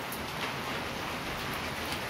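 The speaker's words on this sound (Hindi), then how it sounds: "मूसलाधार बारिश हो रही है देखिए" Heavy downpour of monsoon rain, a steady dense hiss of drops with no break, fairly faint and even throughout, with no voices.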